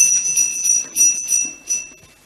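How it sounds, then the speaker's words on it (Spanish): A small doorbell in a Spanish stage play rings in a few quick bright pulses of metallic jingling, clear and close with no talk over it, then fades. "¿Ha sonado la campanilla de la puerta?"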